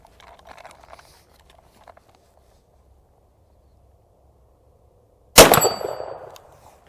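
Single sharp blast of a shotgun defensive round fired with a 4-N-1 gauge kit, striking a steel target with a bright metallic clang that rings and decays over about a second, after near silence and faint movement.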